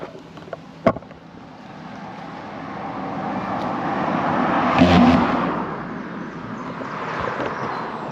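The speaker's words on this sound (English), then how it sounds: "every time a car goes over that cattle grid, it terrifies me" On a rural road near Carlisle, a car approaches and rattles across a cattle grid with a brief clunking burst, the passing roar swelling to a peak and fading, after an earlier sharp knock.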